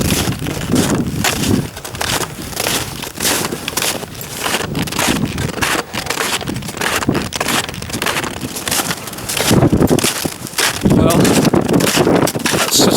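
Strong wind gusting over a hill summit in the Ochils, a loud continuous buffeting roar across the microphone that swells and eases, with no clear talk.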